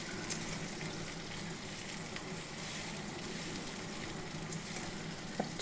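Vada fritters deep-frying in a deep pan give a steady, even sizzle and hiss throughout, with faint stirring clinks now and then and no voices.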